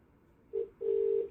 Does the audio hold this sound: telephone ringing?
yes